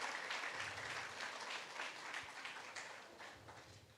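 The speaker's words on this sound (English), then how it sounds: "Please, let's clap for FX Daddy and his team." Applause for the organizers at a large gathering of forex traders and entrepreneurs, a dense, even patter of many hands clapping, faint and distant, continuing steadily throughout.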